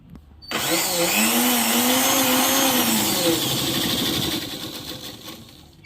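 A hand-operated sewing machine stitches a petticoat in short stretches, a steady whirring run that starts abruptly and holds for several seconds, then tapers slightly, fairly close and alone without talk.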